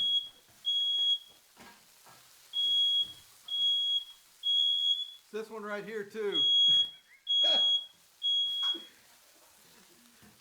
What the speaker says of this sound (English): we set up the smoke detector